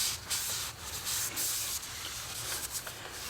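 Brake parts cleaner hisses out of an aerosol can onto a steering knuckle from a 1945 Willys MB, then a rag rubs it down, giving steady close spray and scrubbing noise with short breaks.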